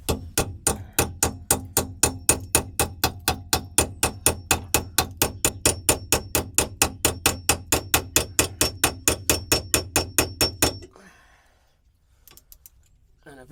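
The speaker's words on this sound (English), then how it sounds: "Hammer it nicely in there" A hammer drives a Torx bit into a seized ABS sensor on a BMW E46 race car build, about fifty fast, even metallic strikes close up, then stopping abruptly into near silence.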